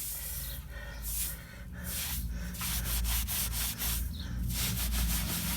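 Damp, warm sponge wiping fresh grout across wall tiles, a steady close rubbing and scrubbing in repeated back-and-forth strokes, continuous and fairly loud with no talk.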